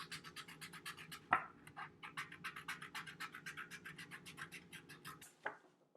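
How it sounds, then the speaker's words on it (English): Scissors snip through paper in a quick run of short, evenly spaced cuts, close and fairly quiet, with a louder rustle near the start and again at the end. "We're gonna cut them out together with a pair of scissors"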